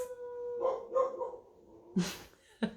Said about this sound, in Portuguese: Algum cachorro desesperado. Tá uivando ali fora.